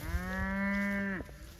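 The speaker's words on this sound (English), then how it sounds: "That is a nice, plump looking cow." Plump beef cow on a farm letting out one long, loud, steady moo that breaks off sharply near the end, close by amid faint outdoor background noise.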